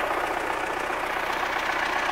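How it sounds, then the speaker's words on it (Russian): An MTZ tractor engine idles steadily after a cold winter start, a continuous close rumble with a rough knocking texture and no speech. "Ну, завел этот трактор."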